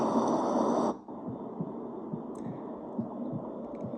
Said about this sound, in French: Le battement du cœur.